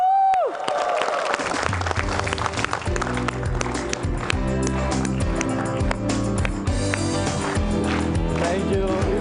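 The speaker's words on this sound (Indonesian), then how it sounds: "Ya, bantu saya berikan tepuk tangan yang meriah untuk Rani Aulia." Studio audience applause on an RTV talk show, a loud sustained burst of clapping under upbeat music that runs throughout.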